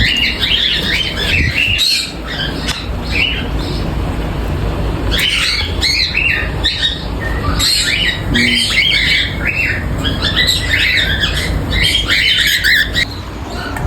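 A pair of cockatiels squawk loudly and near, with repeated harsh calls and chirps running almost continuously over a steady background.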